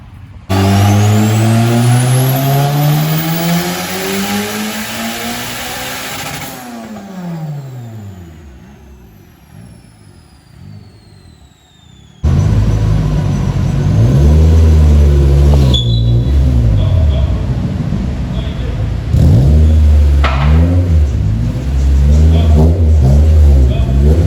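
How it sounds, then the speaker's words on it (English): A car on a dynamometer is revved hard through repeated pulls, its engine note climbing steeply, falling away to a lower drone, then surging again in two more loud rising sweeps. "maybe record some pulls from Angel's car"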